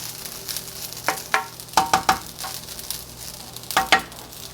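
Garlic fried rice toasting in a hot pan, a soft steady sizzle broken by several sharp scraping stirs of the spatula that come in uneven bursts, close and fairly quiet, with no talking.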